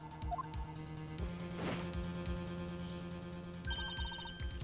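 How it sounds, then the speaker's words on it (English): A telephone in Ace Attorney Investigations: Miles Edgeworth rings in clear, repeated electronic trills over steady game background music, with no talking. "Why is the phone ringing again?"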